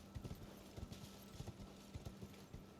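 Hoofbeats of a horse galloping in the Elden Ring video game, a steady repeating clip-clop rhythm of heavy thuds, moderately loud and close, with no talk over it.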